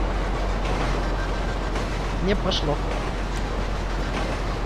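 A train in the video game GTA Online rumbles past steadily and continuously, a low heavy drone that stays level throughout while people talk over it.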